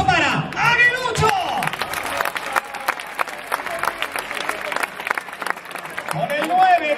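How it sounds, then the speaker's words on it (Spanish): A crowd claps and cheers for a contestant at an outdoor bullfighting recortes contest, the applause steady and fairly close, with a loudspeaker announcer talking over it. "fuerte el aplauso para Aguilucho."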